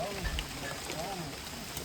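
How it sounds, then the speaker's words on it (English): Rain falling outdoors at a campsite, a dense broadband hiss of drops that may be partly wind, steady and fairly loud for a couple of seconds, with a voice faintly present underneath. "it's starting to really rain again."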